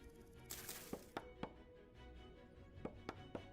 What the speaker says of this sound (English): I kind of feel bad for chopping down this.